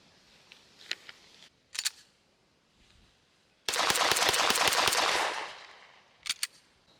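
Pistol shots from a Sig P320 AXG Legion on a range: a few sharp separate cracks, then a fast loud string of rapid fire lasting about two seconds, followed by a quick double shot.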